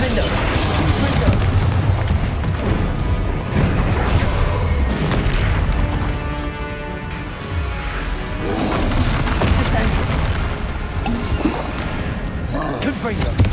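Repeated Confringo fire spells blast in Hogwarts Legacy combat, producing heavy booming explosions and crashes that run almost without a break for the whole stretch, with a voice calling out the spell names over the din.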